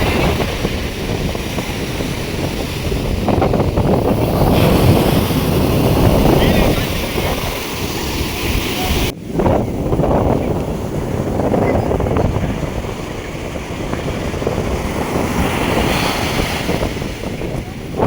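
Ocean waves wash onto Pulicat beach (Pazhaverkadu) near Chennai, a loud continuous roar of surf mixed with strong wind buffeting the microphone, swelling and easing over the whole stretch.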